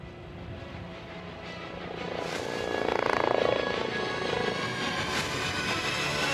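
Helicopters flying in formation at the Aero India air show in Bengaluru produce a broad, rumbling rotor and engine roar that swells to a peak and holds as the aircraft pass overhead.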